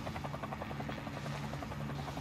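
Airplane engine in the Warzone video game, a steady droning, throbbing hum with a rhythmic pulse, fairly faint and continuous with no talk.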